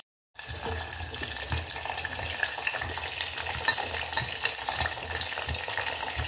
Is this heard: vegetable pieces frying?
yes